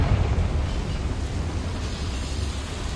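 A Confringo fire spell explodes in the Hogwarts Legacy video game: a dense, rumbling blast with a broad roar that holds steady for a few seconds at moderate loudness, with no other sound on top.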